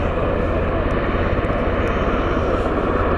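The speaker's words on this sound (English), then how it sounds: "I think it's the helicopter we can hear. It is the helicopter." A steady, low, throbbing rotor drone of a helicopter near Stansted Airport, constant and moderately loud, with no talking.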